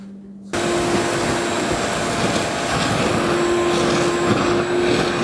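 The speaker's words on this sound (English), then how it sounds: "We should skip the Dustopper and we'll just vacuum straight into the Dust Deputy" A shop vacuum runs steadily through a Dust Deputy cyclone dust separator, switching on after a brief quieter hum and holding a loud, continuous whooshing roar with a constant whine, alone without talk.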